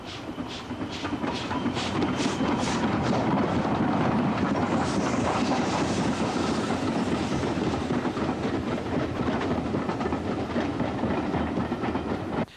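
A pair of steam locomotives, a 4F and an N2 tank engine, double-head a Leicester-bound train past Swithland sidings near Rothley. They pass loudly and close in a sustained roar with rhythmic chuffs and rail clatter over wind buffeting.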